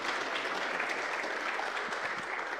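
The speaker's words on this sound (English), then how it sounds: "So please, huge applause for them." An audience applauds warmly at a conference closing session, steady dense clapping from many hands throughout, close and even, with no talk over it.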